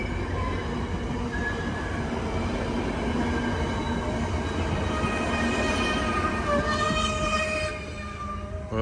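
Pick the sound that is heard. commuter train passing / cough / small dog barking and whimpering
commuter train passing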